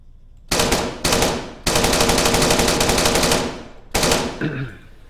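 Automatic gunfire in the video game Arma 3 Exile mod, loud sustained bursts of rapid fire separated by brief pauses, close and dominant, with a final shorter burst.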